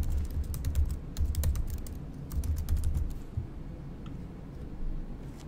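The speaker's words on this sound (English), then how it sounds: "I'm going to enter my password that I set earlier." Someone types a password on a computer keyboard: quick clusters of light key clicks, then a pause and a couple of isolated taps, close and fairly quiet, with no voices.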